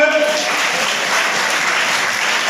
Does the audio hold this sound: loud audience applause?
yes